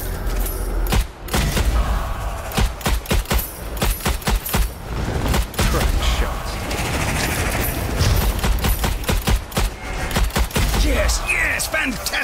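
Rapid gunfire in the video game Strange Brigade, with dense bursts of loud shots and booming impacts crowding together, broken by brief pauses and layered over game effects.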